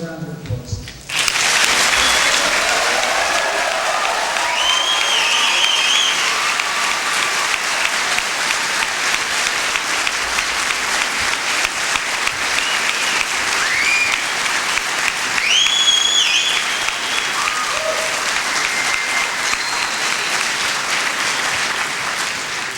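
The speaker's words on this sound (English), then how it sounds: "give the regular serving soldiers of Delta Battery another round of applause" A large crowd at a military artillery battery ceremony applauds loudly and steadily, with scattered cheers and whistles rising above the clapping.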